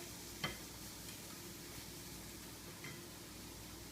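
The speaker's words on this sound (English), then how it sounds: "Nice cheesy saute." A cheesy sauté cooking in a pan gives a faint, steady sizzle throughout, with a soft tap near the start and another later, no voices.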